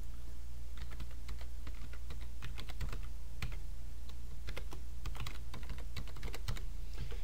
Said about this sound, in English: Typing all of this is so much extra work